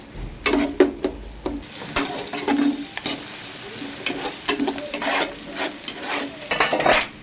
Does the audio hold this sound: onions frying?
yes